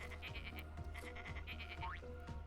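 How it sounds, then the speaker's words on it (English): A goat bleats in a rapid, repeated, warbling series over a couple of seconds, faint and somewhat distant, with a low background hum beneath. "Goat's gone mad."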